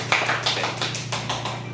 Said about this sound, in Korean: 모두 박수로 맞이해 주시기 바랍니다